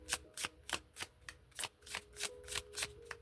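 Tarot cards being shuffled by hand, a run of crisp riffling bursts in a steady rhythm, close and clear with a faint hum underneath and no talk.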